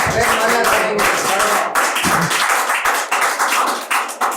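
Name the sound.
audience clapping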